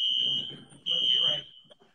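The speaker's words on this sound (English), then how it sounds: "My fire alarm is going off." A loud, piercing electronic alarm tone sounds continuously with brief breaks while a person talks over it nearby.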